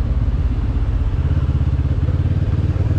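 Motorcycle engines of police bikes rumble close by in busy Albanian traffic, a steady low throbbing with a pulsing beat that holds for about three seconds.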